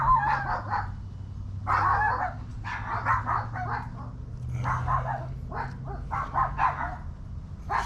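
Dogs in a garden give repeated sharp barks and yips in uneven bursts, fairly close, over a steady low background hum.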